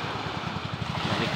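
Small outboard-style boat motor idling with a steady low pulsing thump, close and continuous alongside water and wind noise, on an overcast day out on the water for net fishing.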